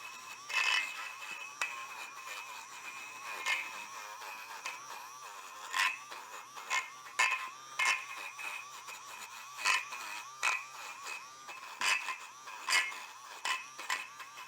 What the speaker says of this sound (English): Now I'll take my little wire wheel here.